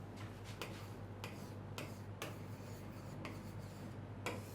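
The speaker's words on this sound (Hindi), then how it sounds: "अब अगर मैं यहां पर लिखता हूं" Chalk scratching on a classroom board in short, separate strokes, each a brief dry scrape with pauses between, over a steady low hum in a quiet room.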